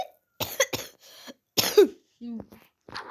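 A video game character gives several rough, raspy coughs and throat-clearing sounds in short bursts, close and fairly loud, with brief pauses between them.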